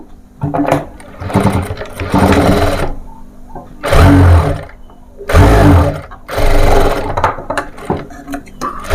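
Stitching a baby frock's fabric strip, a sewing machine whirs in several short, loud bursts of rapid needle chatter, with brief gaps of quiet handling between runs.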